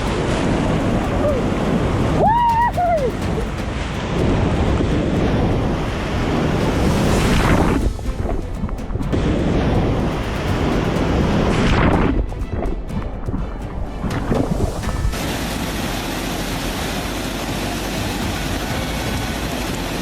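Huge North Sea waves crash against ships in a loud, continuous roar of surf and rushing water, with heavy wind buffeting the microphone and surging swells rising and falling throughout.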